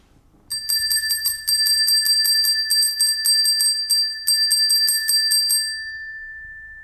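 Close up, a hand bell is shaken in quick, bright bursts with a brief pause midway, ringing for about five seconds before the last tone dies away.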